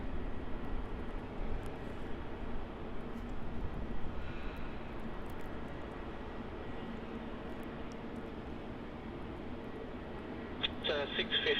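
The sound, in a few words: Fiji Airways Boeing 737 MAX landing on runway 16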